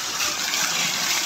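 Water gushes steadily from showers, a continuous broadband rush with no pauses, close and fairly loud throughout.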